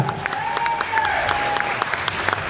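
Sustained audience applause at a French pageant event, a steady dense wash of clapping with a faint sustained tone running beneath it.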